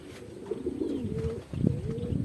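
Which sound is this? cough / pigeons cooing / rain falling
pigeons cooing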